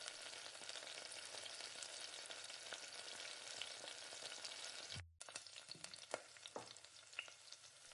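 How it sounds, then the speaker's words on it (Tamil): Onions sizzling and frying in hot oil with green chillies and garlic while making a Tamil fish curry, a steady dense hiss that breaks briefly as the onions go in, then continues with a few stirring clatters. "சேர்த்து நல்லா வதக்கி விடுங்க."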